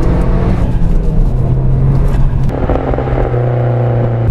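Older Audi S3 engine pulling hard while driving, a loud throaty drone rising and falling with revs, gear changes and a steady rumbling tone near the end, heard from inside the car.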